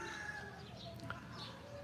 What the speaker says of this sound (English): you can hear the roosters going